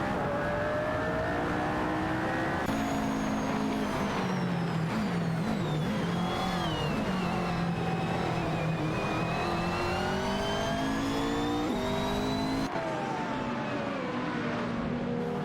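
Race car engine screams close by with rising and falling high-pitched revs through gear changes as it accelerates away, sustained and loud throughout.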